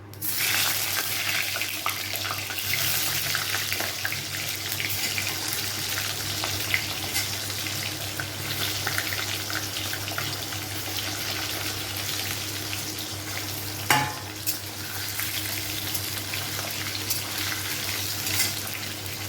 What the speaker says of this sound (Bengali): এখন আমি সেদ্ধ করা আলুগুলোকেও একটু ভেজে নেবো